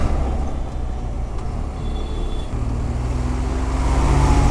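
A BMW R1200GS motorcycle riding on a highway in Pakistan: steady road and wind roar with a low engine drone that grows slightly louder toward the end.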